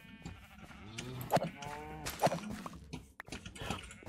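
Sheep bleating in the video game Minecraft, several short wavering calls at moderate loudness with some game sounds around them and no talk.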